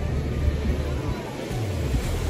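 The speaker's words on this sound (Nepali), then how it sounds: "यहाँ चाहिँ यस्तो छाल हान्छ" Ocean surf rolls and crashes onto a beach in a steady, loud wash of broadband noise, with wind buffeting the microphone throughout.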